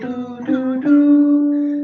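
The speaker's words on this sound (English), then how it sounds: "So Dorian sounds like this." A few sustained melodic notes in Dorian mode ring out on a single instrument, stepping upward and holding the last tone, clear and close with no talking.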